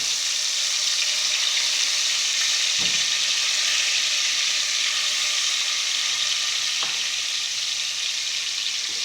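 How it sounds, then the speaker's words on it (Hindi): Ginger garlic paste sizzling steadily in hot oil in a pan while cooking aloo baingan, a continuous close hiss with a couple of faint clicks or stirs, no talking. "अदरक लहसुन का पेस्ट इसमें डाला जा रहा है।"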